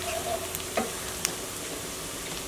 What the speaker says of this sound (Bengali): পেঁয়াজটা প্রায় আমার মোটামুটি ভাজা হয়ে এসেছে